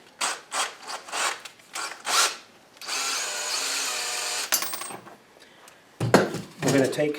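A power drill bores slowly into a wall while a tool storage rack is being mounted, in short repeated bursts followed by a longer continuous whir, then more quick bursts, loud and close.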